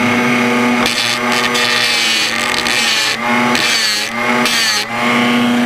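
A Drill Doctor bit sharpener grinds a drill bit with a loud, steady motor whine, broken by short rhythmic dips as the bit is plunged and rotated, with no talking.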